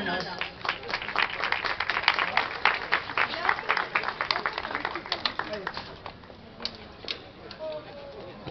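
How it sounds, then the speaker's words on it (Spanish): Crowd clapping at a Catholic religious procession for Our Lady of Reconciliation in La Molina: sustained, fairly loud rhythmic applause that tapers off toward the end, with voices mixed in. "Palmas, hermanos."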